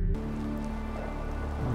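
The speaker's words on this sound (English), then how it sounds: "it's raining." Steady rain falls in the video game Fallout 4, a continuous even hiss of drops pattering on surfaces that stays at a constant level throughout with no voices over it.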